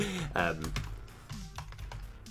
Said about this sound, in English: this is just me typing really, really fast